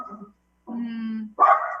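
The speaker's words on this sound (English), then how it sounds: "sorry, dog" A pet dog barks during a council meeting held online, with a short yip, a longer sustained bark or whine, then a louder sharp bark, close and clear with no talk over it.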